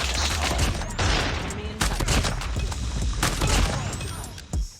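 Rapid gunfire rings out in a Garena mobile shooter, where the KRM shotgun is in use: a dense barrage of loud, sharp repeated blasts close together, with brief gaps between bursts.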